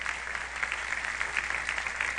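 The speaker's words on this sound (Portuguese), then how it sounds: "Vamos aplaudir ao Senhor pela vida delas?" A church congregation claps together during a celebration service, a brief, fairly soft ripple of crowd applause with a steady, even patter and no voices on top.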